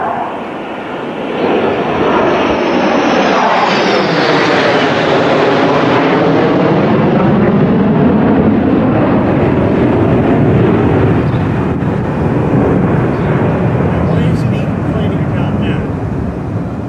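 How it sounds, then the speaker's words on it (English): A formation of airplanes passes overhead at a pool being opened, with a loud engine roar that rises, sweeps across and slowly fades away, and wind buffeting the mic. "Another formation of airplanes"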